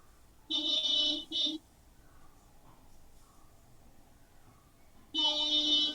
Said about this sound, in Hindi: खुद ही बैठ के गाड़ी में हॉर्न बजा रहे होंगे, इसको डिस्टर्ब करेंगे हम।